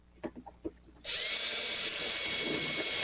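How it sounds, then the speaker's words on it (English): A few light taps, then a power drill kicks in drilling into RV sheet metal and runs at a steady high-pitched whine, loud and close, continuing to the end. "Let me drill another one, get another one in."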